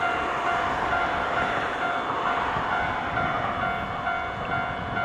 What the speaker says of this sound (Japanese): 通過列車です